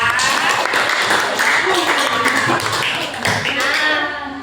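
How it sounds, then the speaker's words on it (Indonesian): Class or workshop participants clap for their peers in a school setting, a loud, fairly dense burst of hand claps sustained throughout, with some voices mixed in. "Tepuk tangan untuk teman-teman kita"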